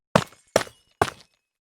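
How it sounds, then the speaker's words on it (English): Three crisp, evenly spaced breaking sounds of a calcite block in the Minecraft video game, each a sharp crumbling hit that decays quickly, heard alone against silence. "For calcite, breaking them,"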